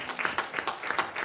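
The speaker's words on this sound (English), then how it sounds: "You can clap for that." Brief scattered clapping from an audience at a community board meeting, a short patter of hands lasting just over a second, moderately quiet.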